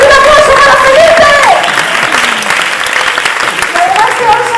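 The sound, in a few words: audience applause for Sandra and Felipe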